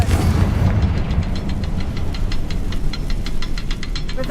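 Confringo fire spell in Hogwarts Legacy bursting against spider webs, a loud low rumbling blast followed by a string of crackling, rattling pops that fade out.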